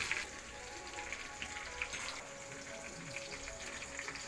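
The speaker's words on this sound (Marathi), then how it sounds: "मनुका थोडा धुवून घेतल्यामुळे कढईचा आवाज येतोय" Freshly washed raisins fry in oil in a wok, giving a soft, steady sizzle with faint crackles and pops throughout.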